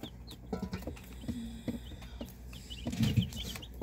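Newly hatched fluffy chicks peep in short high chirps scattered across the moment, with soft rustling and shuffling nearby, quiet and close, no talking.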